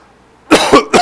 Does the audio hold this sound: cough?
yes